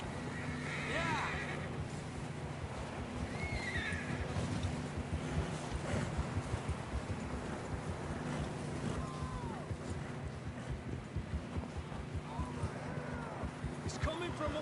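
Horses in the Red Dead Redemption 2 video game whinny and clop along in a wilderness chase, several neighs rising over steady hoofbeats and background rumble while characters talk over the scene.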